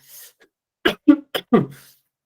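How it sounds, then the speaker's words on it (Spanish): A short burst of several dry coughs in quick succession, close and fairly loud, after a brief faint sound at the start. "Tomé agua y de todas maneras me provoqué la tos"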